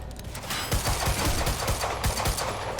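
Rapid bursts of automatic gunfire from the shooter game Quantum Break, loud and continuous, with dense overlapping shots throughout and no talking.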